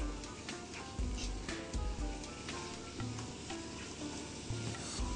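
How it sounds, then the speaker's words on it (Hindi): Fresh cream is stirred into sizzling spinach pasta sauce in a hot pan, giving a steady close frying hiss with scraping stir sounds and soft knocks throughout, with no talk. "सो 4 टीस्पून फ्रेश क्रीम के आप इसमें डाल दें और उसको मिक्स करें।"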